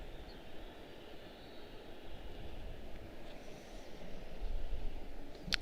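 An airliner taking off at Washington Dulles airport: a steady, distant jet-engine roar that swells gradually toward the end, with no voices.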